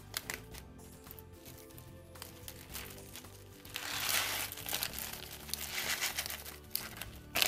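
Dry loose goods from a cheap plastic bag being poured into an ordinary bag, with crinkling plastic and a rustling, gritty stream that gets louder partway through and runs on to the end.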